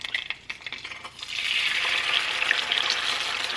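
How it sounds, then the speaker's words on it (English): An egg cracked into a hot cast iron pan with coconut oil, followed by a steady, close sizzle that swells and holds for a few seconds after some brief clatter. "first thing you're going to do is just crack your egg in the pan"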